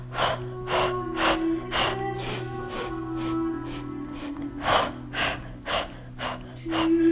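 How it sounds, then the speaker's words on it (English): Rhythmic, forceful breaths during a Pilates mat workout, quick sharp exhales in a steady pulse of about a dozen bursts, close and clear over faint background music. "3 more breaths, please."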